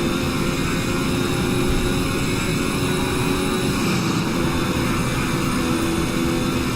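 Force India Formula 1 car engine at Silverstone in the Automobilista racing game, a loud continuous droning roar that holds steady with only slight shifts in pitch as the car moves between third and fourth gear, no voices over it.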